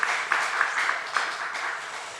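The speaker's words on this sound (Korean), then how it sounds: "여러분 큰 박수로 좀 환영해 주시면 감사하겠습니다" A church congregation at a Friday worship service applauds in welcome, a broad, steady wash of clapping with a few sharper peaks, continuous and moderately loud throughout.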